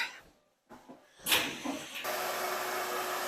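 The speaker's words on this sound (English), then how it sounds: "So let's vacuum that up and clean it up before we get any further." A vacuum cleaner sucks dust from a window track, starting after a few soft handling knocks and then settling into a steady loud hissing whir that continues to the end.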